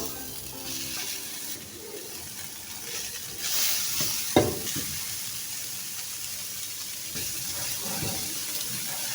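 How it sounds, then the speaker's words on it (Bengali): Chicken dropped into a pan of sautéed onions for a chicken sandwich filling sizzles steadily and loudly, with stirring scrapes and a sharp clatter midway, close by and without any talking. "পেঁয়াজটা সটে করা শেষ পেঁয়াজটা লাল করিনি এখন আমি এটার ভিতরে চিকেনটা দিয়ে দেবো"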